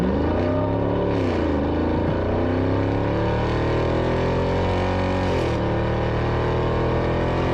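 A Chevrolet Silverado ZR2 pickup's aftermarket exhaust rumbles loud and close, deep and steady with a couple of brief revs rising and falling over a continuous idle drone.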